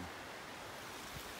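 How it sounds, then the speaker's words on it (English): Massive waterfalls in the Castleguard Meadows backcountry, heard as a steady, faint, distant broadband roar with no voices. "And I can hear the massive waterfalls over here."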